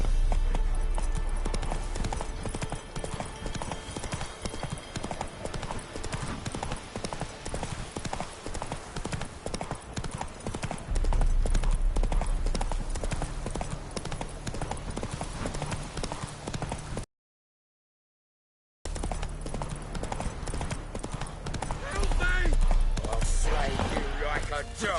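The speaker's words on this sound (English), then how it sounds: "Run, Roach." Horse galloping in The Witcher 3 video game, fast rhythmic hoofbeats on ground running continuously under game music and occasional voices, briefly cut to silence before resuming.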